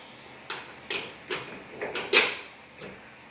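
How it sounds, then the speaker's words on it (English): Bolt being slid back into place on a 2008 Nissan Armada front strut, heard as a series of sharp metallic clicks and knocks spaced about half a second apart, with one louder scrape, close and without talk. "Now I'm going to slide the bolt back into place."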